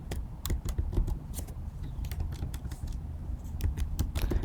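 Computer keyboard typing a terminal command on Ubuntu, a close run of quick, irregular key clicks with brief pauses and no voice.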